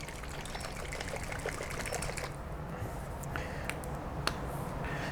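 Vallejo Premium polyurethane paint poured into a small container, a faint trickle and dribble that is soft and close, with a few light clicks and no talk.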